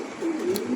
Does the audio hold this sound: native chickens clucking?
no